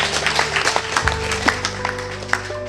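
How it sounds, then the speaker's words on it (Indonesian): Audience applause at a Gawai Adat harvest festival gathering in Dusun Kempas II, Sintang, a brief patter of clapping under a droning music bed, fairly loud and close. "kita berikan aplaus lagi"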